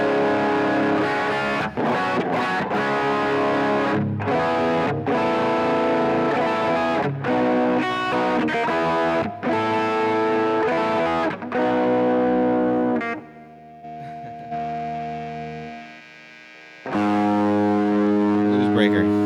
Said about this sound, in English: So that's the old Ibanez Tube Screamer.